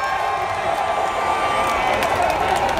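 A crowd at a political rally at the Obelisk square in Dakar applauding and cheering in a continuous, loud wash of noise with no breaks.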